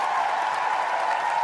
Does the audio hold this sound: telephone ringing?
no